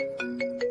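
A short electronic ringtone chiming three times in a quick, even rhythm, clear and close.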